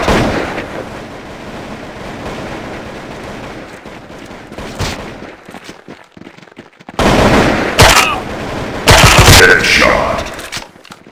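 Bursts of gunfire in Counter-Strike 1.6, a rough mix of sharp shots and loud blasts building in intensity toward the end, with game announcer voice lines mixed in.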